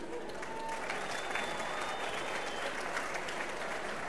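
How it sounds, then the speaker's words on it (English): A crowd at the Golden Shears sheep-shearing competition applauds steadily, a dense wash of clapping heard from a moderate distance in a large hall, fairly soft overall and continuous throughout without pauses. "Another round of applause for Mr. Please Paratiana, ladies and gentlem"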